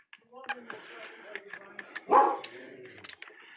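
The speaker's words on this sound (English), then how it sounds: "that's Chewy, our studio dog. You probably see the mailman" A studio dog barks once, loud and close, at the mailman in a photo studio, set against background chatter and small room noises.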